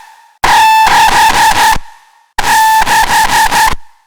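Synthesized bass, a loud buzzing tone with a bandpass filter sweeping through it, played as two stuttering bursts of rapid pulses with a short gap between them.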